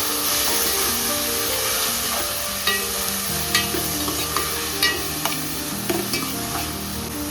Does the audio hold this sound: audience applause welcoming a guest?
no